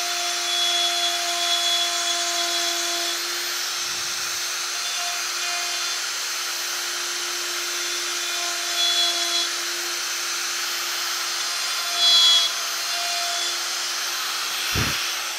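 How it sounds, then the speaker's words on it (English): Wood router cutting flutes in a turned wooden piece held on a fluting jig, a steady high-pitched whine with a hum underneath, the cutter kept moving throughout, brief louder bursts near the end. "So I'll do the first flute. Keeping the cutter on the move all the time."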